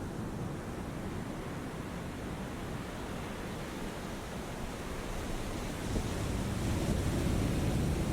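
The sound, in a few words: ocean waves in video game War On The Sea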